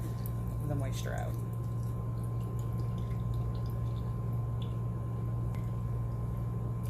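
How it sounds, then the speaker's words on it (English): Water squeezed out of a wet vegan crab filling for spicy sushi rolls, a brief squishy drip and trickle near the start, then a quiet steady background hum. "just make sure you get all that water out. Squeeze it all out."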